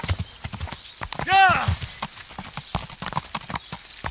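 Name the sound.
horse hooves and whinny in video game Kingdom Come Deliverance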